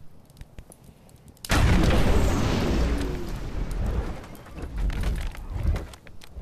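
Huge ground pound impact in the video game Blade and Sorcery: a sudden loud booming blast that hits hard and rolls on as a long, noisy rumble lasting several seconds, with smaller thuds following.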